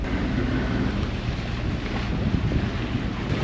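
Sailboat running under full mainsail and jib with the starboard engine on, at night in the Tuamotu: a steady broadband rush of wind buffeting the microphone over a low engine rumble and water, continuous, with no talk.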